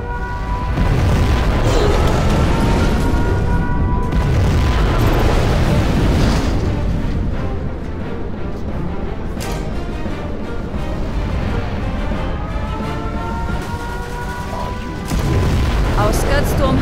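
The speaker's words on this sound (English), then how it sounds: "We have launched our nuclear missile." A nuclear missile detonates in Command & Conquer Generals Zero Hour, producing heavy, rumbling booms that swell and fade in waves across the scene, mixed with ongoing battle noise.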